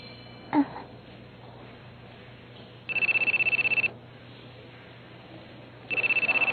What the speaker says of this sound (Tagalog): Galing sa cellphone ng pinuno.